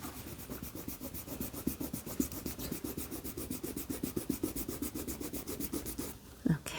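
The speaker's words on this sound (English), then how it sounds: "Now I'm going to erase all of my pencil marks." An eraser rubbing over paper to clear pencil marks from a simple milk bottle drawing, a steady run of quick back-and-forth scrubbing strokes, close and fairly quiet, ending with a brief brushing sound.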